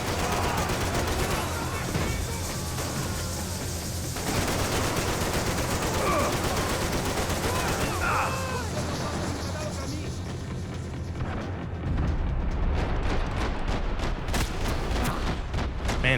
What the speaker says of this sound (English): shooting blindly into the gas or into the smoke really worked